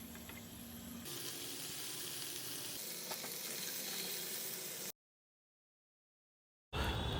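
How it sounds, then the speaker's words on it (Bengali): Deveined prawns fry in red curry paste over a medium flame, giving a steady, close sizzle for about five seconds. After a pause of silence, a short, loud burst of sizzling returns. "এইবার ডিভেন করা প্রনগুলোকে মিডিয়াম ফ্লেমে রেড কারি পেস্টেই ফ্রাই করে নেব।"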